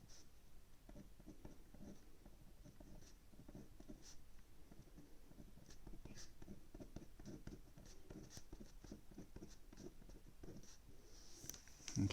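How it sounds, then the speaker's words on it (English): A pen writes a maths rule by hand, a faint, steady scratching of strokes and taps on paper that goes on throughout with no voices. "I'm going to write the rule down here again,"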